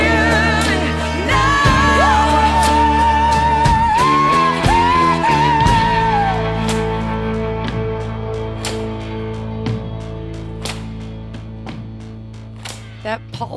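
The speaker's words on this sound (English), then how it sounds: "That pulsating you hear is a synth called Signal by Output, which I was absolutely obsessed with at the time." Signal by Output synth pulses in a steady, rhythmic throb beneath a sung vocal line and other music, carrying on alone after the voice drops out.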